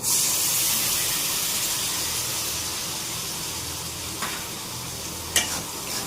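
Potatoes and spices sizzle and fry in a pan for small-potato aloo dum, a steady close hiss of oil with faint stirring scrapes and a couple of brief clinks near the end, no voices.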